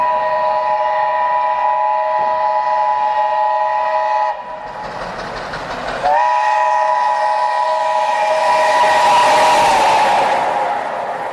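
A train rumbles loudly with a sustained multi-tone horn sounding, briefly breaking off, then returning as the roar swells and fades slightly.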